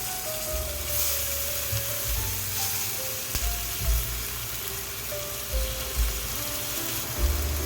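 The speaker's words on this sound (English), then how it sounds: "So just sear it for 6 minutes on each side, guys." Maple balsamic pork chops sear in a hot pan with a steady close sizzle and crackle. A low tonal hum runs underneath, and no one speaks.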